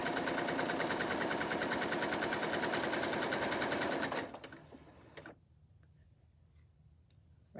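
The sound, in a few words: sewing machine sewing a regular straight stitch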